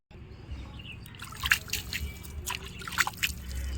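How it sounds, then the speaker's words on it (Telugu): Water splashes and trickles in short bursts onto soil in a terrace garden, with soft dripping and a few louder splatters against a low background rumble. "వాటర్ చల్లుకుందాం"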